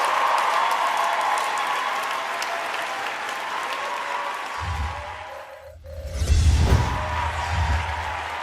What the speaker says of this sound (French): Je vais vous prier de pouvoir applaudir encore une fois de plus pour eux